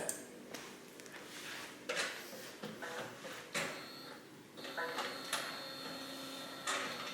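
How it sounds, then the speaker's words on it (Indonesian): A DTG (direct-to-garment) printer whirs and clunks through its start-up, with repeated mechanical thumps and sliding sounds at a steady, moderate level. "Setelah itu printer kita bisa mulai nyalakan lagi"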